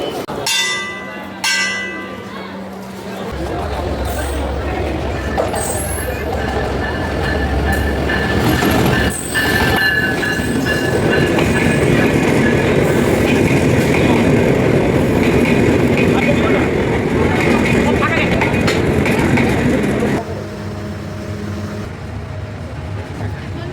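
A train rolls past, loud and close, with a steady rumble of wheels on track and some squealing, and a bell rings near the start before the roar settles into a long, even wash.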